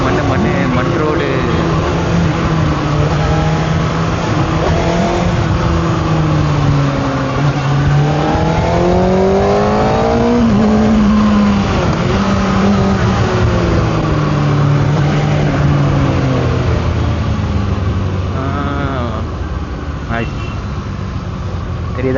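A Kawasaki ZX6R sport motorcycle rides along a dirt road, its engine rising and falling in pitch as the throttle changes, with steady wind rush and someone talking over the ride.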